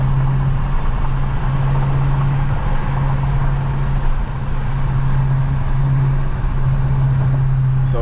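A Dodge Charger Daytona 392 cruises on the road with a steady low engine drone and tire roar heard from inside the car, constant and fairly loud with no talking.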